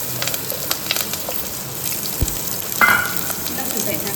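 Onions fry in oil in a pan with fenugreek and curry leaves, making a close, steady sizzle with occasional stirring scrapes.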